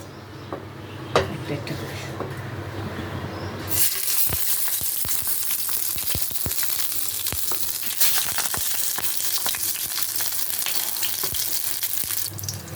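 Turmeric-coated katla fish pieces are lowered into hot oil in a wok and set off a sudden, loud, continuous sizzle with crackling pops that lasts to the end after a quieter opening.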